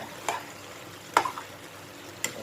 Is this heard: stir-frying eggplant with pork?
yes